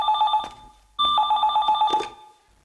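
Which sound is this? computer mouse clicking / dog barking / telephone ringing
telephone ringing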